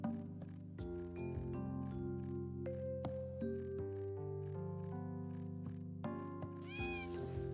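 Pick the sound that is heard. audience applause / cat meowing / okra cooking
cat meowing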